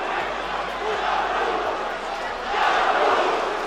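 A heavyweight boxing crowd cheers and roars for Artur Szpilka in an arena, a steady wash of distant voices swelling louder toward the end, with a commentator talking over it.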